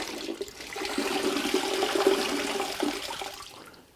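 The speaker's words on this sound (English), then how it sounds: "wring the majority of the water out of that sponge" Water pours and splashes out of a big red sponge being wrung during a rinseless ONR car wash, a close, steady gush tapering off at the end.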